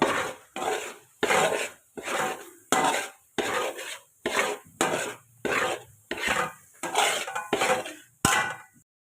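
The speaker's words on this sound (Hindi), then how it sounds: "साथ साथ हम फिर चम्मच चलाते रहेंगे" A spoon stirring thick chana dal halwa with sugar in a kadhai, heard as about a dozen rhythmic scraping strokes against the pan, each a rasping burst separated by short pauses, close and clear with no speech.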